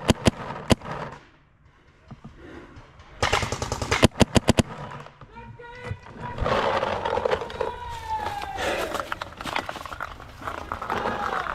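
Gunfire in a video game: sharp single shots and rapid automatic bursts, loud and close, followed by a stretch of mixed game effects and rumbling.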